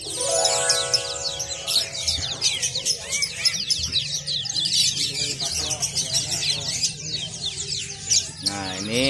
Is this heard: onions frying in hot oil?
no